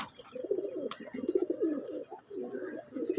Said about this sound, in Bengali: এক পেয়ার ম্যাগনেট পায়রা আছে